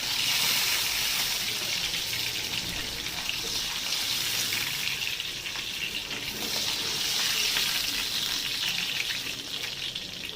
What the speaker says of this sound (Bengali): বাদ বাকি মাছগুলোকেও ভেজে নেবো।